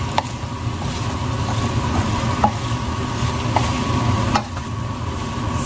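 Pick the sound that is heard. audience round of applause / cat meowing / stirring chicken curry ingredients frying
stirring chicken curry ingredients frying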